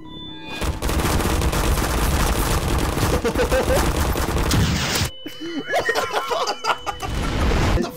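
Dense, loud gunfire crackles almost continuously in Garry's Mod for several seconds, breaks off abruptly, then resumes in scattered bursts mixed with other game noises.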